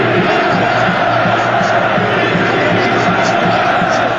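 Corinthians fans in the stadium at Yokohama, Japan, during a Corinthians vs Chelsea match: a loud, continuous, dense crowd roar and cheering that fills the whole stretch without letting up.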